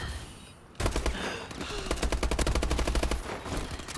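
Rapid automatic gunfire in a shooter game, with several tight bursts of evenly spaced shots rattling for about three seconds after a quieter lead-in, close and fairly loud, with faint speech underneath.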